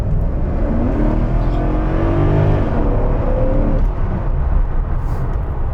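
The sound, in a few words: Mercedes SL500 V8 accelerating at kickdown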